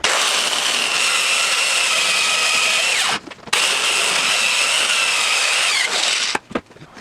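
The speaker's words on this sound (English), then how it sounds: "we'll come back out here and drill them into place" A power drill driving fasteners to fix a table in place inside a campervan conversion, two long high-pitched whirring runs each ending abruptly, then a short final burst, with no talking.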